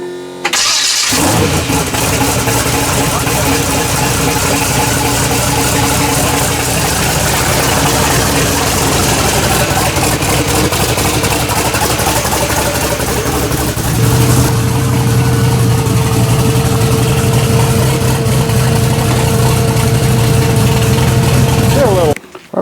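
Twin turbo Chevrolet S10 engine running loud and steady close by, with a rough idle whose tone shifts partway through and holds a steadier drone, while people talk over it.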